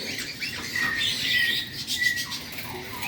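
A pet bird in a bird store lets out shrill, drawn-out squawks, several in a row, close and fairly loud over a faint background hum.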